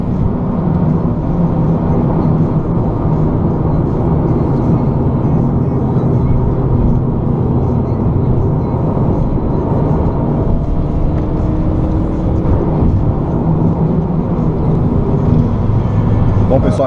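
A 2018 Honda Civic Si turbo cruises on a highway, its engine drone, tyre roar and wind noise forming a loud, constant rumble from inside the cabin, with a voice talking over it.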